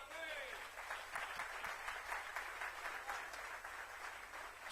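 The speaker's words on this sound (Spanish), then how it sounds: "Dele un aplauso al Señor" A church congregation at a regional conference claps in a steady, dense wash of applause lasting the whole moment, moderately loud, with scattered voices and a few whistle-like calls mixed in.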